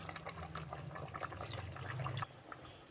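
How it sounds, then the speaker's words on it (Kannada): Half a glass of water pours into partly cooked chicken gravy, a continuous splashing gush for about two seconds that stops abruptly, followed by quieter dripping, no talk. "ಒಂದು ಅರ್ಧ ಗ್ಲಾಸ್ ನೀರು ಹಾಕ"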